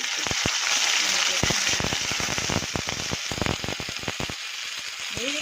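Ginger garlic paste sizzles in a hot pan while fenugreek chicken is cooked, a steady loud hiss broken by dense sputtering pops and crackles throughout.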